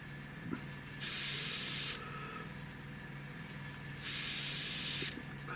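A Gaahleri swallowtail airbrush sprays paint from its nozzle in two separate hissing bursts of about a second each, close and clear, with quiet pauses between.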